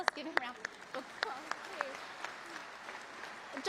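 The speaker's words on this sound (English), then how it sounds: "Dr. Reeder, let's give him a round of applause." Applause from the audience at a university pharmacy doctoral hooding ceremony, moderately loud and steady with a few sharper claps standing out, a voice briefly audible over it near the start.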